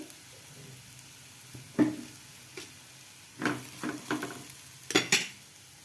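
A small bitter gourd fry stirred in a pan on a gas stove gives a few scattered scrapes and clinks of the spatula against the pan over a faint sizzle, moderately close, with no talking.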